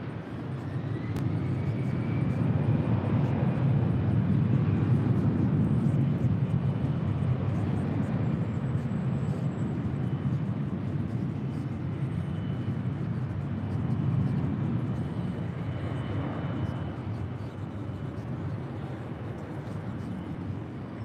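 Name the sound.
Beechcraft King Air airplane at LAX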